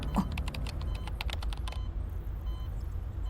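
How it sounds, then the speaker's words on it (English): Rapid, dense keyboard typing clatters for under two seconds, then stops abruptly, leaving a quiet room hum. "The furious typing sounds almost like a sudden downpour."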